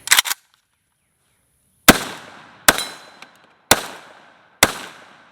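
Short bursts of gunfire from a PSAK GF3 12.5-inch AK pistol, with a quick cluster of shots, then a pause and four separate loud cracks spaced about a second apart, each followed by a brief outdoor decay.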